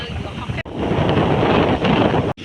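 Steady seaside wind buffets the microphone on a beach near Cha-am, a continuous rushing roar that stays strong throughout, broken only by two brief dropouts.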